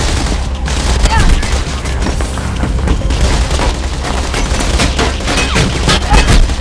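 Dense, continuous gunfire crackles through a Mirror's Edge firefight, bursts of shots layered over booming impacts for the whole stretch, with voices talking over the noise.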